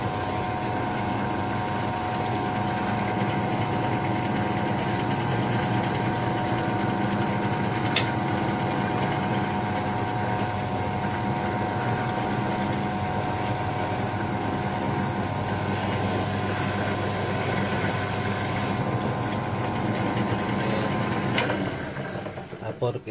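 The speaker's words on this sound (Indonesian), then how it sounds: "Bor kira-kira 1 cm aja atau 10 mili aja. Ini udah kita bor." Drilling into PTFE stock to shape a valve chamber, roughly 1 cm deep, producing a steady continuous machining whir with a faint ratcheting mechanical texture, close and sustained throughout.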